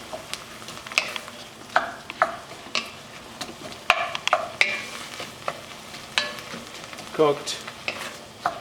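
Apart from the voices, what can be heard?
noodles added to soup and stirred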